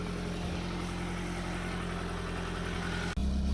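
Recovered Nissan D21 Hardbody pickup engine idling close by, a steady low rumble with a brief dip near the end before it settles again, no talking.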